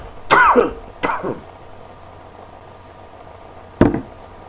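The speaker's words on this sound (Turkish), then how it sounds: "Şimdi bir öksüreceğim" Two sharp coughs close together, then a pause of quiet room tone, and a single short throat-clearing cough near the end.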